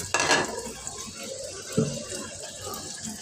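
Water poured into a plate in a home kitchen, with a sharp clatter of dishware at the start, a gentle running trickle throughout and a second brief knock midway.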